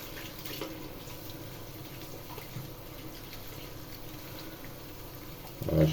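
Water runs steadily from a tap while equipment is rinsed after chroming aluminium with Destop Express drain cleaner. The flow is a continuous moderate hiss, with a brief louder splash at the very end.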